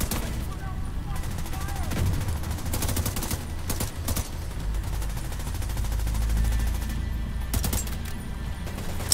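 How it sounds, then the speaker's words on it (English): Shooting in the video game The Division 2, with scattered gunfire bursts and rattling volleys over a steady combat background, moderately loud, with some talk mixed in. "I know there's a shoot button. Keep firing and take them out."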